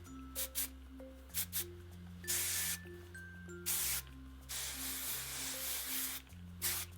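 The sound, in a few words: hairspray being sprayed onto hair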